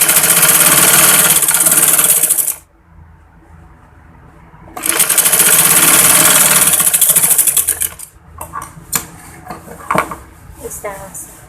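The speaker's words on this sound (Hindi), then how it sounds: "तो यहाँ भी एक और सिलाई लगाते हैं।" A sewing machine stitches tucks into a trouser bottom in two loud, steady runs of rapid stitching separated by a pause, followed by clicks and handling noises.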